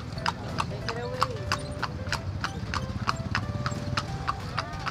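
A horse pulling a kalesa carriage in Ilocos clip-clops steadily on pavement, its hooves striking in a quick, regular rhythm close by. People talk over the hoofbeats, and a brief whinny rises partway through.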